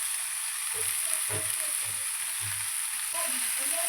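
Salt, turmeric and spices sizzle in hot oil for a fish curry. The frying hiss stays constant and fairly close, with a few soft stirring scrapes coming through underneath.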